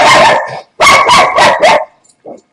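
A dog barks loudly and close by: one long bark, a short pause, then four rapid barks, followed by a faint soft yip.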